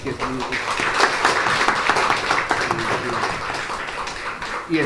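Church congregation applauding a new member during a Sunday morning service, a steady wash of clapping that fills the room for several seconds at moderate loudness.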